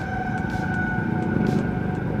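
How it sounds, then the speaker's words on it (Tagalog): Fire truck siren wailing through heavy city traffic, a loud close tone holding steady pitches over a rumbling engine and road noise, with short bursts of air horn cutting in. "Bumbero ang tulin."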